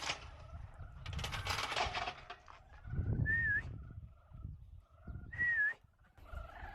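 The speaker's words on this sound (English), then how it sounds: "I hear a large amount of birds." Birds call outdoors, with a mix of chirps and rising whistled notes over scattered rustling and low animal sounds, moderately faint and irregular, with no voices.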